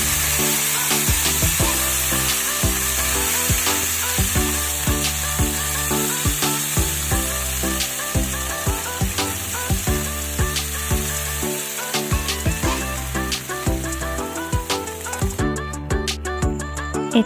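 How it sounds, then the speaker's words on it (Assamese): Water is poured into a hot pan while cooking Assamese khar with banana flower stem, giving a steady, loud sizzle and bubbling that runs throughout with no talk. "এতিয়া ইয়াতে মই পানী ঢালি দিম"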